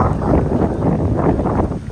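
Cyclone Fengal winds blow in a heavy, continuous rumble that buffets the microphone, loud and unbroken throughout.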